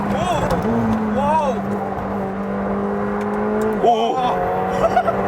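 A McLaren 720S engine drones steadily at close range, rising and sweeping in pitch with a couple of revving surges under acceleration, while a voice is heard over it.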